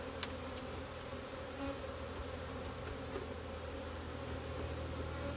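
Honey bees buzz steadily around a hive frame during a February hive inspection as they are knocked off, a dense, even insect hum close by with no talk.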